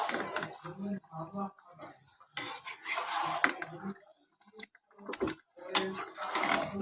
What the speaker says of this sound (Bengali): মাংসগুলো দিয়ে আমি ভালোভাবে নেড়ে চেড়ে নিব মশলাগুলো ভালোভাবে